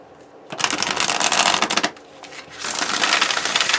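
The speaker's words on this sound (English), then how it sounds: "It has gotten easier to shuffle." A deck of tarot cards being shuffled by hand, two bursts of dense riffling close up, the first about a second and a half long, a short pause, then a longer steady run.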